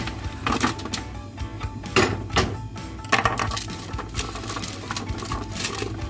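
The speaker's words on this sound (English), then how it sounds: "Whack them on a roasting tray." Clattering, clinking bite-sized carrot pieces tumble onto a metal roasting tray in a few quick bursts, with scattered knocks and rattles over a low background hum.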